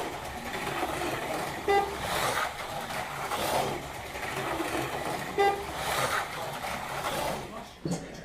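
A Tyco 440x2 slot car runs laps on its track, a buzzing electric whir that swells and fades in repeated waves as it circles, with a few sharp clicks along the way.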